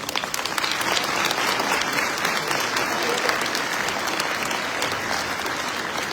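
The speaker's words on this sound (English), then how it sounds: "Another round of applause," Loud, sustained applause from an audience inside Pleasant Hill Christian Church in Gasburg, Virginia, a thick, continuous patter of many clapping hands that holds level for the whole stretch without a pause.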